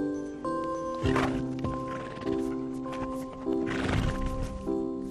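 Horses whinny twice in loud bursts over a steady tonal background, with faint hoof clatter between the calls.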